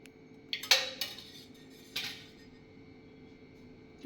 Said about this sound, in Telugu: ఫస్ట్ కడాయి పెట్టుకుందామండి. అందులో కొంచెం ఆయిల్ వేసుకుందాము.